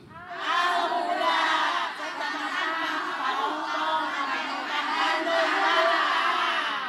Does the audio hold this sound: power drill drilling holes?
no